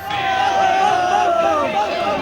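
Large crowd of devotees thronging a Shiva temple on the first Monday of Sawan, a loud continuous hubbub of many voices with chanting-like tones rising above the babble.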